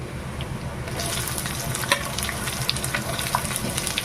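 Chopped onion sizzling in hot oil in a pan with fried garlic, a steady dense crackle with occasional sharp pops and stirring scrapes, close and continuous with no talk.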